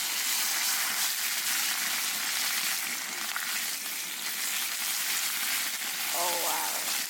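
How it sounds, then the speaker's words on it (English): Steady, dense sizzle of bacon frying in a pan on a campfire stove, close and continuous for several seconds, with no talking. "Nothing's as beautiful as bacon frying."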